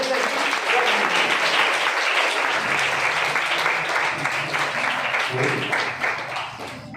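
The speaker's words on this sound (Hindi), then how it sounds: "जबरदस्त ताली।" An audience at an opening event breaks into loud, dense applause after a recited verse, the sustained clapping going on steadily for the whole stretch and easing slightly at the close.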